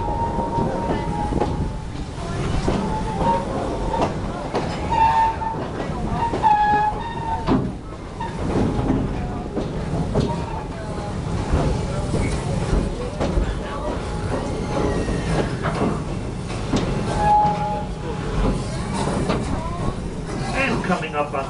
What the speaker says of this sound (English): Oh, it's another train around.